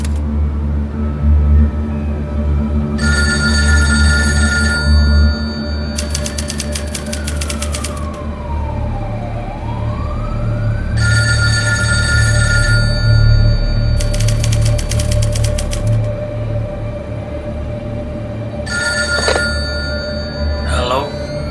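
A telephone rings in repeated bursts, loud and close, inside a VR installation, interleaved with a sweeping siren-like tone over a steady low hum and background talk.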